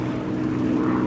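A P-51 Mustang propeller fighter named Never Miss passes at an airshow in Geneseo, New York, its piston engine a steady, loud droning growl with a throbbing propeller beat and no talk over it.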